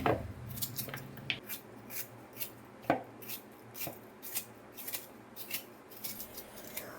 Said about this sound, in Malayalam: നമുക്ക് കട്ടിംഗ് ബോർഡിൽ വെച്ച് നുറുക്കാട്ടോ